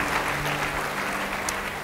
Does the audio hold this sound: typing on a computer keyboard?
no